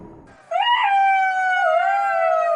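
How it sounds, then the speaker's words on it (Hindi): A jackal howls in an animated Hindi folk tale, one long, loud, sustained wavering cry that rises at the start and then holds steady. "जब सियार का पेट भर गया तो वह खुश होकर हुआ हुआ की आवाज निकालने की कोशिश करने लगा।"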